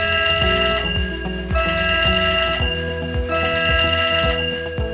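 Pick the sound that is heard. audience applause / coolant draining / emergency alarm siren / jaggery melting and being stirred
emergency alarm siren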